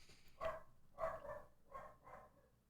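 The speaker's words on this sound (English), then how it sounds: "Oh, we have dogs in the house." Dogs bark inside a house, a series of four or five sharp barks in quick succession, moderately distant and fairly quiet.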